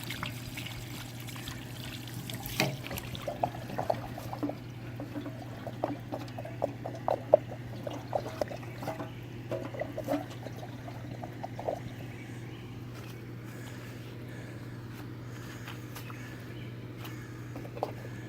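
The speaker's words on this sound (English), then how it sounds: "I'm going to take another rinse" Water trickling and pouring as a rusty fuel tank from a Sportfisher 5 hp outboard is rinsed out, a soft, steady dribble with small splashes over a constant low hum, no talking.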